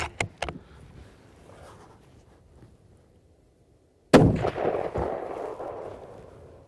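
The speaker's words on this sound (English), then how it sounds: "So let's run a couple shots downrange and see what we got here" A long-range hunting rifle fires one loud, close shot through a chronograph at a desert range. Two sharp, faint cracks come first, then a quiet gap before the big blast and its rolling echo.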